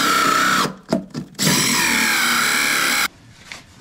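A power drill with a 4¼-inch hole saw bores a hole for PVC pipe, whining loud and close in two bursts split by a brief pause with a few knocks, then stopping abruptly.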